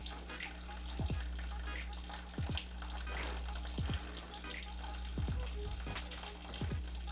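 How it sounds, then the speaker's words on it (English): Tap water runs steadily while rice is rinsed in a kitchen, with a continuous splashing wash and several short droplet-like plinks spaced through it, fairly close and alone. "Rinse our rice."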